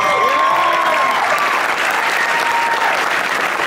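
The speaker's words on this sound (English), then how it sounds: "Let's just give him a round of applause." Loud, dense audience applause in a theater at the Newport Beach Film Festival, a sustained roar of many hands clapping close and steady, with faint voices within the crowd.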